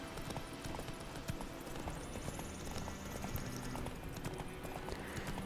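Horse hooves clip-clop along a road in The Witcher 3, a steady, fairly quiet trotting rhythm throughout with faint game ambience behind it.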